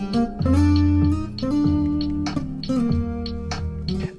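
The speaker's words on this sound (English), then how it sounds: "That sound is going from his phone via Bluetooth into the guitar" Backing-track music streamed by Bluetooth from a phone and played out through the body of a Yamaha TransAcoustic TAG3 acoustic guitar, with steady sustained chords and a repeating pulse, full and continuous throughout.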